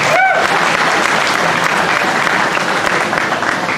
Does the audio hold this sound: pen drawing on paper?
no